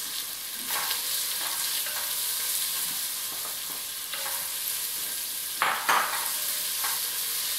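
Onions frying in coconut oil with cumin seeds and chili flakes for a Moroccan kurma stew, a steady close sizzle broken by repeated scraping stirs, no talking.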